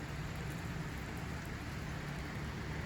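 Steady rain falling with light snow in Canada on an evening, heard as a continuous, even hiss with no breaks and no voices.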